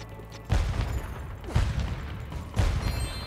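Cannon fire in Spyro 3: Year of the Dragon, three heavy booming thumps about a second apart, loud and close over a steady game background.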